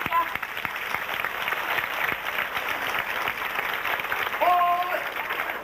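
An audience applauds the third-prize winners at an awards ceremony, a steady wash of clapping that continues throughout with a few voices faintly mixed in.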